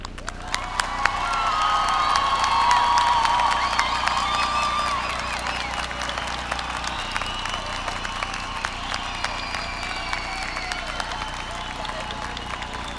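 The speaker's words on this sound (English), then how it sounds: "I think we should clap for them all one time" Graduation crowd at a high school ceremony clapping and cheering, a loud swell of applause and shouts that peaks early, then settles into steady clapping and chatter across the whole stretch.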